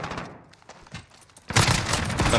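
Gunfire in Call of Duty Modern Warfare: scattered shots early, then a sustained loud burst of rapid fire in the second half, with no talk over it.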